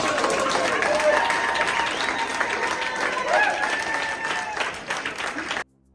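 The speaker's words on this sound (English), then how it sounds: "They then proceeded to cheer and high-five each other." Political debate candidates cheering and high-fiving: a loud, dense crowd of applause and excited voices, fading away near the end before a sudden cut to quiet.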